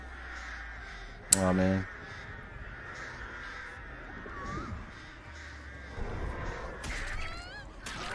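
Crows caw loudly around the Artist killer in the video game Dead by Daylight, with a sharp whack at the start of an attack and more cawing later. Someone speaks briefly over the game sounds.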